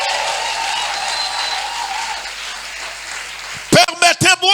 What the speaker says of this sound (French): Acclame encore Jésus plus fort que ça